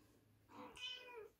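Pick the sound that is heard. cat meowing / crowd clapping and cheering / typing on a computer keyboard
cat meowing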